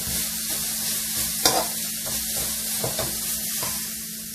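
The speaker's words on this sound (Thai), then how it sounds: "มะพร้าวเราก็มาคั่วกันค่ะคั่วไปให้เหลืองหอมเลยนะคะ" Coconut dry-roasting in a pan for vegetarian chili paste, a steady soft sizzle under repeated scraping stirs of a spatula, a few louder strokes standing out, close and continuous with no voices.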